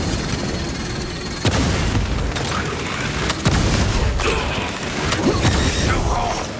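A frag grenade explodes amid combat in Warhammer 40K Space Marine 2, heavy booms with sharp cracks punching through a constant loud din of battle noise.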